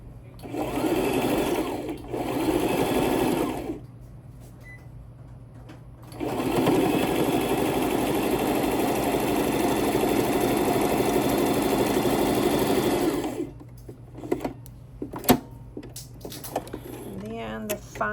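Sewing machine stitching pieces of a double wedding ring quilt in a straight seam, running in a short burst, pausing, then a long steady run, with quieter handling sounds at the end and no talk.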